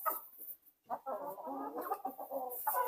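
Laying hens cluck and murmur close by in a home coop in a steady, overlapping chatter, with a brief pause near the start.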